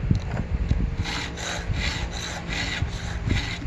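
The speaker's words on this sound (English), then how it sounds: "When the file's running nice and smooth like this, there's nothing, you don't need a lot on the tooth." Steel file rasping across chainsaw chain teeth during sharpening, a run of regular strokes roughly every half second, close up and steady with no voices.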